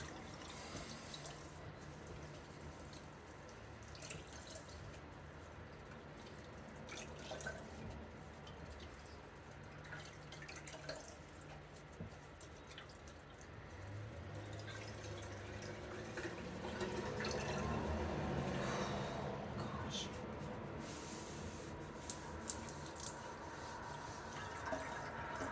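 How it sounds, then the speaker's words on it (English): Cool tap water runs steadily into a sink while dyed wool yarn is rinsed, a faint continuous splashing stream with soft fluctuations and a slightly fuller gush partway through, with no voices. "And I am just rinsing in cool tap water."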